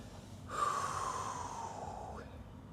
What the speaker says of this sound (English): A couple of deep breaths, Ninja.